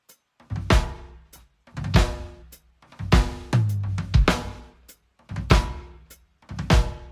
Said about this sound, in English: we have is a 4-stroke rough coming from the floor tom to the snare drum